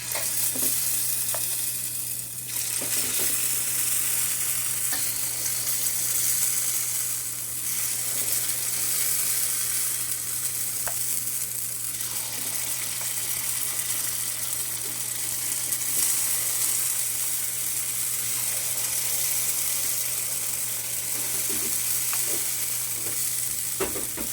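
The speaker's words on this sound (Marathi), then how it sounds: "ते पात्रात तेल लावून सोडून घ्यायचं आहे त्याच्यामध्ये ही बॅटर घालायचं आहे" Appe batter frying in an oiled appe pan, with a continuous close sizzle that holds steady throughout and occasional faint pops and small clinks of utensils, and no talking.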